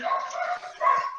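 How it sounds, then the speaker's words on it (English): A dog barks in a couple of loud, close bursts with a whimpering edge, standing alone without talk over it. "Whose dog is that?"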